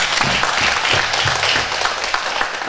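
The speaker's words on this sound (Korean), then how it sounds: "수고하신 분에 박수 한번 해주세요." A church congregation applauds during an evening revival service, producing a brief, dense and steady burst of clapping from many hands.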